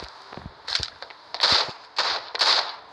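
Several sharp sniper rifle shots crack out one after another at irregular intervals in Standoff 2, crisp and loud, with faint clicks and movement between them.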